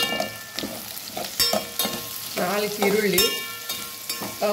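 Steady sizzling of onions frying in hot oil, with repeated stirring scrapes and clinks in a pan, close by and continuous.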